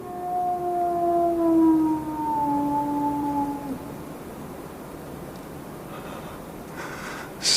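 Radio drama effect of an eerie hound howling on the moor, a long mournful wail that fades after a few seconds into a quiet windy hush, with no voices.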